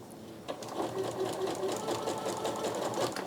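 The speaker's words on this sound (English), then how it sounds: "I've got 2 layers of fabric below the foot, and I'm just going to start sewing." Two layers of fabric run through a Janome Skyline S9 sewing machine, which whirs into a steady, close hum of rapid stitching after a short start.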